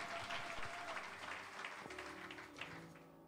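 A church congregation breaks into sustained applause and cheering in praise of the Lord, a dense wash of clapping that stays loud and steady throughout.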